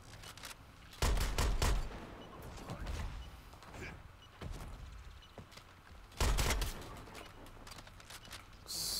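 Gunfire in the video game Suicide Squad: Kill the Justice League, with two heavy bursts of shots and scattered single reports between them, loud and close against a busy battle backdrop.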